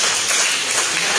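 Church congregation applauding during a Sunday service, a dense, steady wash of clapping at moderate level with no clear break, filling the whole short stretch.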